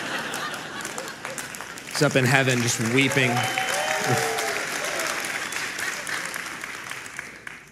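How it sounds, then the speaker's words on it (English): A church congregation gives light, thin applause, a steady spread of clapping running throughout while someone speaks over it partway through. "I'm sure that tepid applause really blessed the Lord God."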